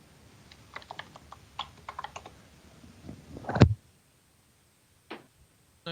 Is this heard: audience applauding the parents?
no